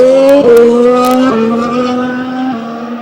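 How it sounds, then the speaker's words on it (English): Valtteri Bottas's Williams F1 car locks a wheel under braking at Jerez in 2015 pre-season testing, a loud close engine note stepping down in pitch across a few seconds as the tyre briefly squeals. "a little bit of a lock-up for Valtteri Bottas"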